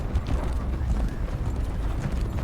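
Horses gallop in a TV show scene, hooves clip-clopping in a quick steady rhythm at moderate loudness, with voices and background sound mixed in.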